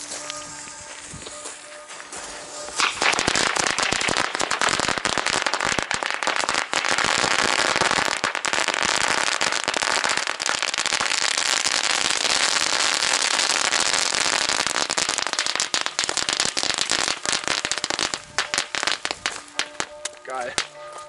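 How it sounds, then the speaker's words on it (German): Long Leslie Celebration Cracker XXL firecracker chain joined to a Blackbox chain at New Year's Eve. Dense, rapid, very loud bangs crackle nonstop for about fifteen seconds, then thin out into scattered pops, with voices talking around it. "In der Mitte haben wir das Herz mit einer Knallkette von Blackbox verbunden."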